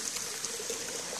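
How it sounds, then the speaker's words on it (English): Water flows steadily over a flume and pours back into a creek, a continuous close trickling and gushing wash with no voices. "The water flows over that and back into the creek."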